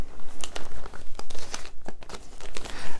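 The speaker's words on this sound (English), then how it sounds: "it sounds like I'm tearing the paper" Newspaper being torn and crumpled during a torn-and-restored newspaper magic trick, heard up close as a dense run of crackling, crinkling rips with sharp bursts throughout, with no talking.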